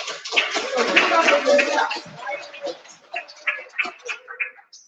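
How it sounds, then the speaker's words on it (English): Conference audience applauding, a dense burst of clapping that thins out into scattered individual claps, fairly close and loud. "I think we deserve to give ourselves a hand of applause"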